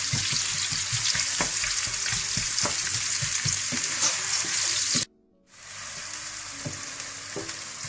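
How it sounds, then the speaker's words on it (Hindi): Onions browning in hot desi ghee for chicken biryani give a steady, loud, dense sizzle with intermittent stirring knocks, briefly cut off before the frying resumes just as strong. "इसमें आप प्याज डाल लें। इनको आप ब्राउन कर लें।"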